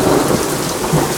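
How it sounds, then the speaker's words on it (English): Heavy rain pours down continuously in a thunderstorm while driving on a road, with low thunder rumbling beneath the steady downpour, loud and close throughout. "Dude, look at this rain."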